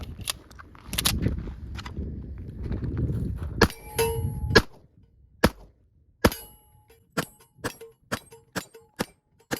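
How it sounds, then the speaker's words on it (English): Shots from a Springfield Armory 1911 TRP pistol firing .45 ACP at steel targets: after a stretch of rumbling noise, a string of about eight sharp reports follows at a quick, fairly even pace, each with a brief metallic ring. "So let's see what the TRP does now against the steel."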